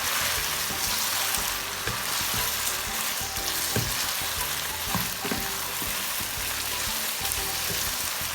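Ginger and garlic sizzle steadily in a hot karahi while a creamy restaurant-style chicken white karahi is cooked, a dense continuous frying hiss with faint stirring knocks and no voices.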